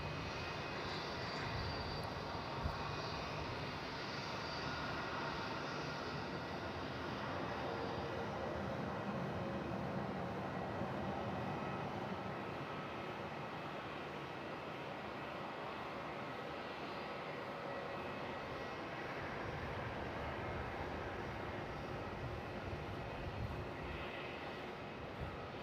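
An airliner arriving from Sydney at Melbourne Airport at night fills the air with a broad, continuous jet engine roar that stays steady and fairly distant for the whole stretch, with no voices over it.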